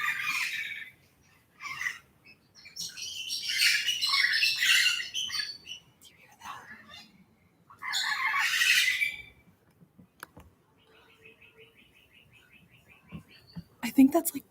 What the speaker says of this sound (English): I think that's like parrots or something